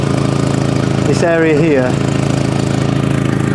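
An Audi TT engine idles with exhaust blowing from the downpipes, a steady close rhythmic chuffing throb. Someone speaks briefly over it.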